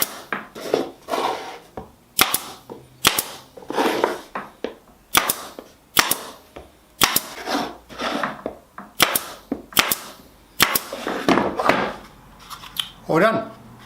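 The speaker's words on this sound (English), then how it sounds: "I'm just gonna pin it on with the small staple gun." A small staple gun fires repeatedly into a wooden box of Queensland fiddleback maple, giving about a dozen sharp, close snaps in an irregular rhythm with brief pauses between them.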